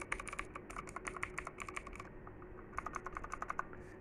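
Typing on a CK62 compact mechanical keyboard fitted with blue switches: rapid, crisp clicky keystrokes in close, steady bursts, a short pause midway, then another flurry of clacks.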